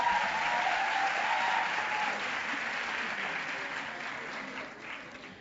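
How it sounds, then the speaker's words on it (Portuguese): Applause for a professor at a finalists' ceremony in an auditorium, a crowd clapping strongly at first and then gradually fading away. "Uma salva de palmas para a professora Dulce."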